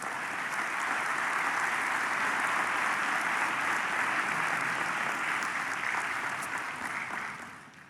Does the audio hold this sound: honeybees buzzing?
no